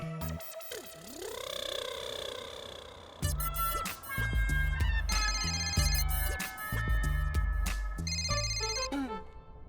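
A telephone rings with a bright electronic ringtone, a repeating melodic pattern of chirping tones that plays steadily for several seconds, close and clear, with sitcom background music and sounds early on.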